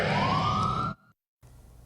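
A siren wails in a rising tone for about a second, then cuts off abruptly into near silence before faint background noise returns.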